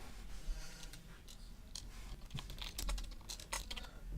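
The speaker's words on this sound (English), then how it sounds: "sorry about the typing" Quick, irregular clatter of computer keyboard keys, soft and close, tapping in scattered bursts over a faint steady background hum.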